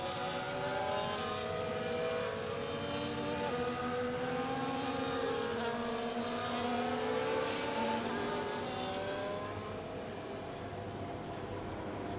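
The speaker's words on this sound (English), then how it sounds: "As the cars come back towards the grid to line up for the start of the race" Formula 1 cars in F1 24 at the Canadian circuit, engines droning and whining as they roll back to the grid before the start, a steady layered engine hum with shifting pitches throughout.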